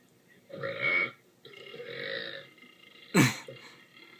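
A person lets out several burps close up, two longer croaky ones followed by a short sharp one, with brief quiet gaps between them.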